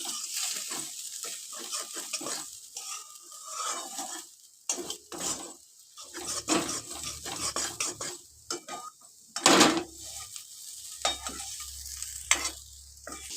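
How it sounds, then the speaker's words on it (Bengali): A banana flower chop mixture fries in a pan over a low flame, with a soft sizzle broken by repeated spatula scrapes and clinks against the pan, close and uneven in rhythm. "গ্যাসটা লো ফ্লেমে আমরা কিছুক্ষণ এটাকে ফ্রাই করে নেব।"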